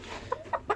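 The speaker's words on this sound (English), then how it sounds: "So this is the black Orpington rooster" A black Orpington rooster with his hens on a poultry farm, three short close clucks in quick succession over a low background murmur, no talking.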